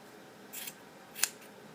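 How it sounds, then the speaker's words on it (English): Two quick snips of scissors cutting through crochet yarn for a doll's hair, the second sharper and crisper, close against a quiet background hiss. "We're going to cut this one here all the way through."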